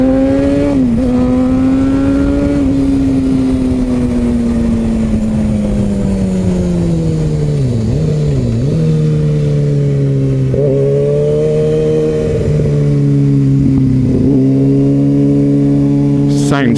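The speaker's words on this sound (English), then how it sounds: "Sounds so good, this bike." A Kawasaki ZX6R motorcycle engine runs loud and close, rising and falling through throttle changes with a strong harmonic drone, heard alone.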